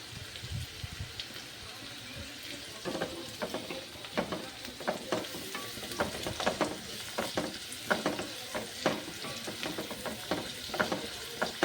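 Cashews frying in a pan together with a green chili give a steady, close crackling sizzle full of sharp pops that grows busier after the first few seconds. No one speaks.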